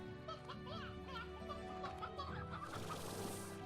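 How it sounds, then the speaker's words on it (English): Ordinary hens in the Slime Rancher video game cluck in a busy, overlapping stream of short calls, steady and fairly close, with a brighter rustling wash toward the end. "No, just normal hens."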